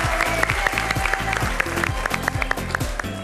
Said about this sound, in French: Des applaudissements chaleureux pour le lycée scientifique